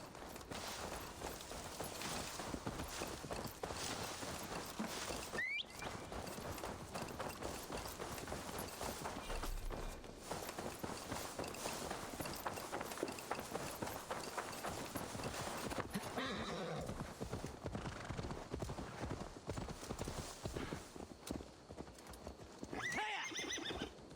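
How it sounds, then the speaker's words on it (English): Horse hooves clip-clop in a steady rhythm throughout, with whinnies breaking in, heard faintly at a distance in the soundscape of the video game Assassin's Creed Valhalla. "Now to deliver Magni his horse."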